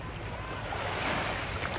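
Sea waves wash continuously at Cabongaon seaside beach in early morning, a steady near roar of surf mixed with wind noise and no talk.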